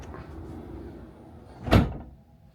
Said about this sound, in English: to get the lip of the ramp there to go in, you've got to use quite a lot of brute force.